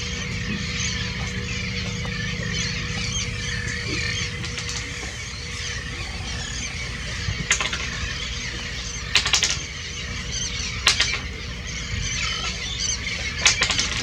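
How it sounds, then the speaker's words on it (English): Birds calling over a quiet coastal anchorage near Cape Lookout, squealing cries and fluttering wing sounds against a steady background hum, with a few sharp louder bursts near the end. "Quiet up here, except for the birds"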